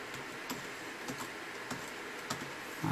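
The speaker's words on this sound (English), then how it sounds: "otherwise you will hear the keyboard all the time on the recording" Computer keyboard typing during a game session, soft clicking keystrokes scattered at an irregular rhythm, close but faint, with no talking.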